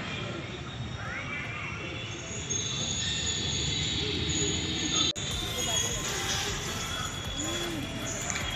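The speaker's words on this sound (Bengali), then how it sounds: "দেখো ট্রেন আসছে চিকচিক চিকচিক চিকচিক করে।" A toy train runs along a park rail line at NN Park in Cooch Behar, with a continuous rumbling clatter of wheels and squealing, nearby and fairly loud for several seconds, with people's voices around.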